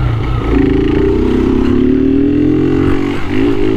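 Video game car engine revving hard after a gear shift, a steady loud rising drone held for several seconds with a slight dip near the end.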